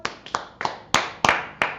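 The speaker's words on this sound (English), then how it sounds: "Let's first clap it up for the Lord" Hands clap sharply in a loose, uneven series at a Tuesday brotherhood class, about eight close, crisp claps in under two seconds with no talking.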